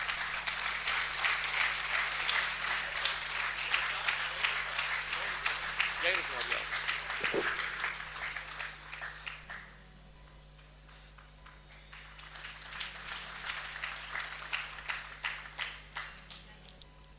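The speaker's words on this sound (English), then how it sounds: "may we have a huge round of applause" An audience gives a big round of applause at a smart cities event, loud dense clapping that fades out midway, leaving a quieter stretch before a second wave of clapping rises, with some talk underneath.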